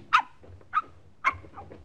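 A dog gives three sharp, separate barks, spaced about half a second apart, against a quiet background in a 1950 radio drama.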